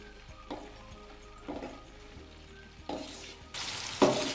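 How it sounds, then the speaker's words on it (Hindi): Okra fries in hot ghee in a kadai, a quiet steady sizzle with periodic soft stirring scrapes, building to a louder, brighter crackle near the end, with no talking. "सबसे पहले हम भिंडी को फ्राई करेंगे।"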